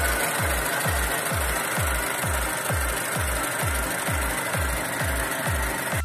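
The engine of a 2006 Mazda 3 idles with a loud, close, rhythmic thumping pulse that repeats evenly, about two beats per second, over a steady broadband whir.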